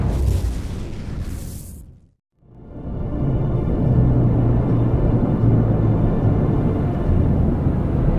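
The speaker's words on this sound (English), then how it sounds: "we'll soon see the largest explosion ever set off on the face of the Earth" A sudden blast gives way to a brief near-silent gap, then a heavy, sustained low rumble rolls on loudly for several seconds.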